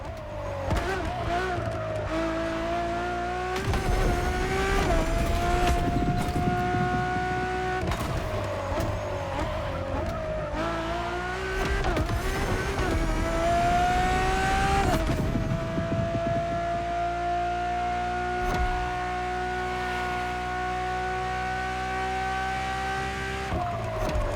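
A road-legal Ferrari supercar in The Crew Motorfest drives steadily, its engine droning loud and continuous with rising pitch sweeps as it shifts through gears, alongside a few sharp transients.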